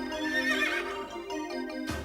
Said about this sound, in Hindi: पिताजी का घोड़ा।